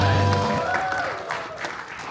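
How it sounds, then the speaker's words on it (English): A comedy show audience at a holiday party breaks into brief applause, scattered claps rising under a lingering voice and then thinning out over about two seconds. "Give Tommy a round of applause."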